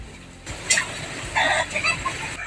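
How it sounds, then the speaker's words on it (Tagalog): Disturbed chickens cluck and squawk nearby in a few agitated bursts, mixed with rustling background noise. "Nabulabog na mga manok."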